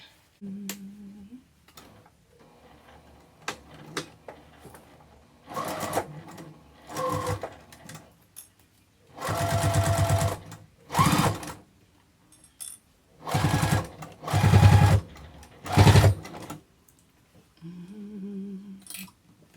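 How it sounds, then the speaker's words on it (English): A sewing machine stitches a Bristol zipper pouch in several bursts of whirring, the longest and loudest near the middle, with short pauses and handling noises between runs. "what we're going to do is turn it around to this side and stitch it"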